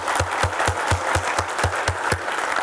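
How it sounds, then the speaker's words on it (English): An audience applauds, a dense, even wash of clapping with regular loud beats of unison claps sustained throughout, fairly close and with no talk over it. "Let's give her a round of applause"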